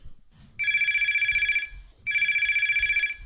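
An old-style telephone bell rings twice in a studio during a rural farmers' radio phone-in programme, each ring a bright trilling burst of about a second with a short pause between them.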